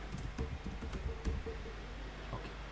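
Computer keyboard typing, quick soft clicks and taps arriving in short irregular bursts, close and fairly quiet, with no one speaking.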